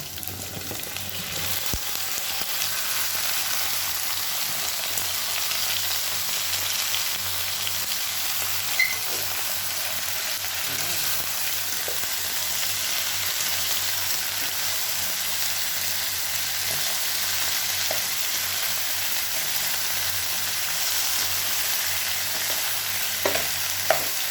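Bitter gourd (ampalaya) frying in a pan, a steady close sizzle with the scrape of stirring running throughout, no talking.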